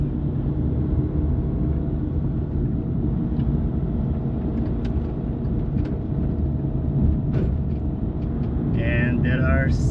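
Several cars idling while waiting in line at a stop sign on a one-way street, a steady low engine rumble throughout with faint background noise and a brief higher sound near the end; people talk over it.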